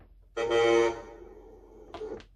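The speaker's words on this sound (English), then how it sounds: "And for the air horn," A loud, harmonic air horn blast from a model Scania 8x4 V8 truck sounds for about half a second, followed by a quieter second short toot after a pause.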